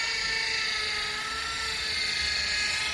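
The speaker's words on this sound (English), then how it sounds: "We're by a man with a drill." A man works with a power drill, its high-pitched, continuous whine held steady at moderate distance with a faint low rumble beneath.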